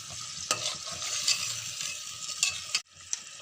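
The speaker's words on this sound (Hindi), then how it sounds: "अब इसके अंदर हम दही ऐड कर देंगे और मिक्स कर लेंगे।" Yogurt being stirred into chicken nihari in a pot, a steady scraping and sizzling churn with a few sharp clinks of the spoon against the metal, then a brief pause near the end, with no talking.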